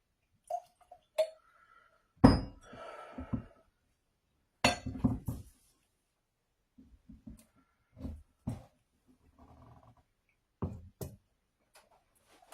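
Sparse clinks and taps from a Glencairn glass ring out as whiskey is poured, separated by silences with a few soft pouring and handling noises in between.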